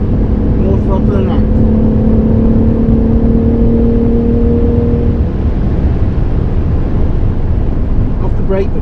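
A car engine on the Goodwood circuit, a loud, close, sustained drone with a steady whine that holds for several seconds before easing, heard under a driver's voice giving instructions.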